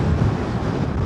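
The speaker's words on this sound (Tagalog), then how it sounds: "Hinahangin ako. Ang lakas ng drag." Strong wind buffeting the microphone during a motorcycle ride on a cold day, a steady low roaring rush that fills the whole moment without letup.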